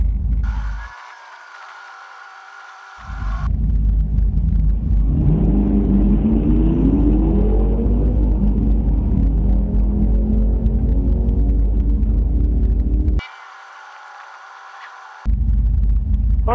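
A drag car engine roars through a burnout, a loud, heavy, sustained rumble with rising revving tones, framed by brief breaks of quieter hum and rattle at the start and end.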